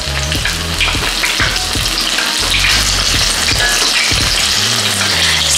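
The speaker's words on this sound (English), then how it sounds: "It doesn't take long to fry the mushrooms, about a minute or so." Shiitake mushrooms deep frying in hot oil for vegan Taiwanese popcorn mushroom, a loud, dense, steady sizzle and bubbling with faint stirring clatter, no talk.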